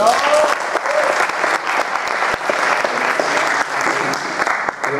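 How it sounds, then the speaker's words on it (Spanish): Audience at a Spanish-language media panel event applauds continuously, a dense patter of many hands clapping in a hall, loud and sustained throughout. "Un aplauso, por favor."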